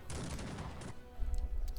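Gunfire volley from musket troops in the strategy game Cossacks 3, a dense crackling burst of many shots for about a second, then a lower rumble of distant shots and battle noise.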